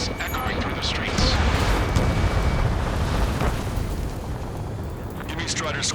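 Ace Combat 7 combat with gunfire and jet roar, a continuous loud rumbling wash of engine noise and bursts that stays dense for several seconds with no voices.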